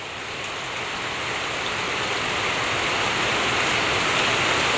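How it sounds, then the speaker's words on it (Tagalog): Heavy rain pours down steadily outside a house in the Philippines, a dense, even hiss that builds slightly and holds loud and close throughout with no voices. "Gawa po ng ulan."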